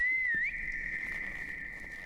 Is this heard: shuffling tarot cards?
no